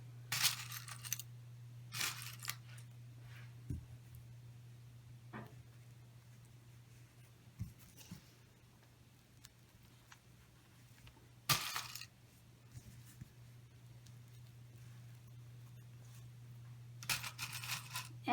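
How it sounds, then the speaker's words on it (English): Pins being pushed through the corners of extra-thick fabric before sewing, a few short scratchy bursts of handling and pin contact separated by long quiet gaps over a steady low hum, close and faint. "So I'm going to put pins"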